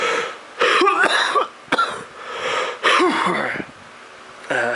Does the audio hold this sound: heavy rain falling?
no